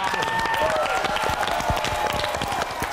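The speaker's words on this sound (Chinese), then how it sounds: "掌声鼓励" Studio audience applause and cheering on a Taiwanese talk show, a dense steady wash of clapping with crowd noise throughout, fairly loud and close, with some overlapping voices.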